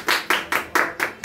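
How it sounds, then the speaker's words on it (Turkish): Six distinct, evenly spaced claps ring out close by in a studio setting, a slow rhythmic clapping rather than a full crowd. "Bir alkış alalım"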